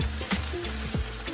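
Brief close sizzle of bourbon cooking off in a pan for chicken pot pie, a steady hissing fry with a couple of light stirring knocks and no talk.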